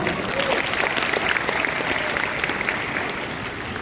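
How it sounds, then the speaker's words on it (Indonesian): Conference audience at a national youth conference in Indonesia applauds in a dense, steady round of clapping that fills the whole stretch at fairly close range, easing off slightly toward the end. "Tepuk tangan dong."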